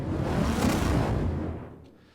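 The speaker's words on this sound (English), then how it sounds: "And then we got this swell and impact here." A rising swell that builds into a dull impact in a music production, a broad whooshing wash that swells for over a second and then fades away.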